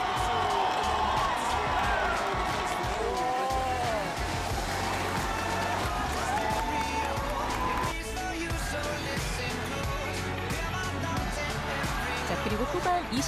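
A large crowd roars and cheers in the stands after an equalizing goal at a heated high school soccer rivalry match, a sustained loud wash of voices and whoops with a commentator talking over it.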